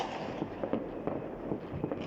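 Repeated muffled bangs and pops of New Year fireworks in cold fog, heard from a balcony, some distant and some nearer, bursting irregularly over a steady outdoor rumble.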